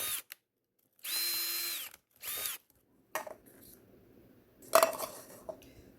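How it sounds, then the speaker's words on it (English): Two short bursts of a whining power drill boring through a stack of 3-ounce plastic cups cut through quiet, followed by light plastic clattering and clinks. "about 10 of these 3-ounce plastic bathroom cups you can stack to drill at one time"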